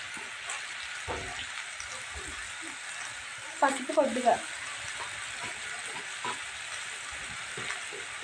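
Drumstick leaves frying in a pan, a faint low sizzle with a brief burst of stirring and clatter in the middle, heard close with quiet background sounds.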